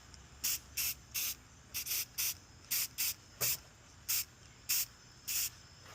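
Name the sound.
spraying Dirty Down aging spray onto 3D-printed TPU part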